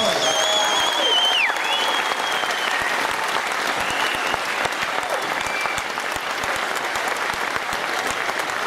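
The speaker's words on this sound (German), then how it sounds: "bitte einen ganz großen Applaus für diesen tollen Fall" Loud, sustained applause from a boxing crowd after a bout between Latvian and Swiss fighters fills the space steadily and dense, with some whistling near the start and a few voices mixed in.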